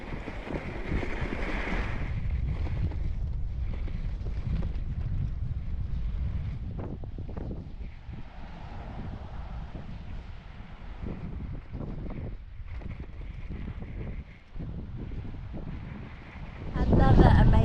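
Strong wind on a Portugal beach buffets the microphone in a continuous loud rumble, with gusts swelling and easing, a faint voice in places, and a harder blast at the end.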